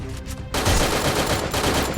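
Gunfire in Garena Free Fire, a dense, loud burst of continuous shooting that starts abruptly after a quieter half second and keeps going to the end, with no talking.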